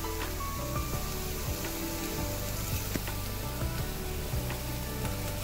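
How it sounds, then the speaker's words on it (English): Onion mixture with turmeric powder sautéing in a pan for potato sabji, a steady close sizzle and crackle with faint scattered pops, continuous and unbroken with no talk. "So now we are going to like saute well."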